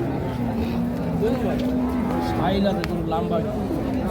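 A cow moos amid a busy outdoor cattle market with Holstein Friesian bulls, low rumbling noise and voices talking nearby.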